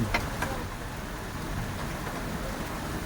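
Rain from the first monsoon shower falling outdoors: a steady, even patter of moderate rain, with a couple of sharper drips near the start.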